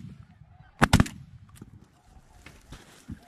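Two sharp shotgun blasts fire in quick succession at ducks during a hunt, close and loud, followed by faint honking waterfowl calls and rustling outdoors.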